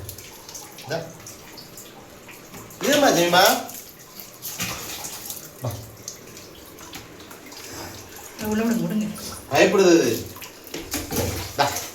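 Water splashes and pours over a Persian cat named Jemima being bathed at home, the sloshing coming in bursts beneath close, steady talk from the people washing her.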